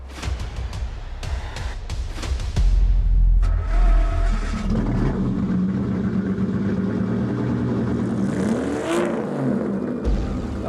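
A classic Ford race car, the one used for the Ford versus Ferrari film sound, cranks and fires up with a loud rumble, then settles into a deep, steady idle close by.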